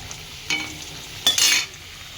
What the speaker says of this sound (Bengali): আর আলু এখানে কিন্তু ভাজতে বসিয়ে দিয়েছি